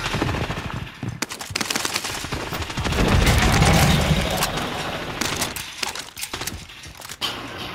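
A slow-firing gun in Call of Duty lets off several sharp, spaced shots, some close and some farther off, mixed with a louder rumbling burst in the middle and scattered game noise.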